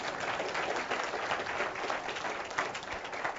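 Audience applause for an ambassador at a tourism forum, a steady, dense wash of clapping that holds at an even level throughout without pause.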